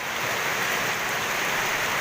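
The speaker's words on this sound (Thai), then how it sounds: "ตอนนี้ฝนก็กำลังตกมาเรื่อยๆนะครับผม" Rain falling steadily in the rainy season over a vegetable seedling bed protected by plastic sheeting, a dense even hiss that stays constant and fairly loud, with no talk.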